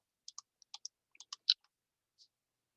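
A computer mouse clicks in a quick, uneven burst of about a dozen crisp, faint taps over silence, followed by one last softer click.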